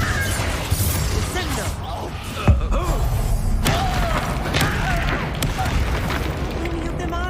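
A Confringo spell explodes in the video game Hogwarts Legacy. A sharp booming blast lands midway through a busy stretch of combat clatter and rumbling game effects, and voices are heard.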